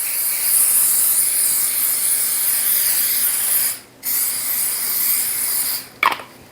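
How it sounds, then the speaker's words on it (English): A spray bottle mists ghee over stuffed Bosnian pita dough in a kitchen. The steady, close hiss runs for several seconds, breaks off briefly, resumes, then ends with a short final puff. "Now I'm gonna spray with a little ghee."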